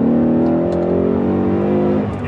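A 2018 Ford Mustang GT engine revs loudly and close, holding a steady rich V8 roar for about two seconds before it begins to fade, with no talk.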